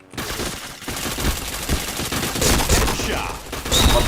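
Rapid bursts of automatic gunfire from a first-person shooter video game, dense and loud, rattling almost continuously with a faint voice underneath.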